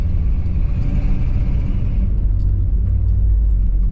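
Inside a K5 Blazer on new tires, a continuous loud low road rumble and tire drone fill the cabin while driving, steady throughout with no talking.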